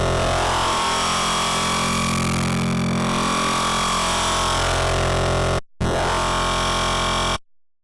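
A screeching, heavily distorted reese bass synth patch built in Serum for drum and bass, a dense harsh buzzing tone that swells and shifts, cutting out briefly twice near the end, loud and continuous with no voices.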